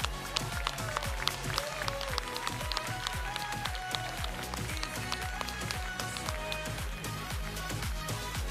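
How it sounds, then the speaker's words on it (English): An audience at the FIRST Festival of Champions robotics event applauds the champion teams, with dense, steady clapping and crowd noise that runs evenly throughout. "Let's give them a big round of applause."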